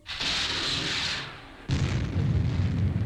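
Interceptors strike a planet and burst into a ball of fire in a science-fiction space scene. A long roaring blast rumbles, then a second heavier boom hits and keeps rolling, loud and alone with no talk.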